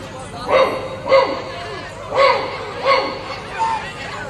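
A person imitates a local street dog with about five loud, evenly spaced barks, while a crowd murmurs faintly in the background.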